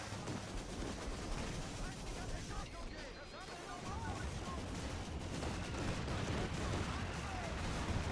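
Continuous rumbling artillery barrages and gunfire fill a Company of Heroes 2 battle, dense and loud, with explosions rolling on throughout and faint voices underneath.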